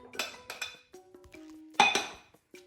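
A knife clinks and taps against a dish while taking butter in a kitchen, a few sharp metallic knocks and scrapes spaced apart, close and fairly quiet, with one brighter ringing clink.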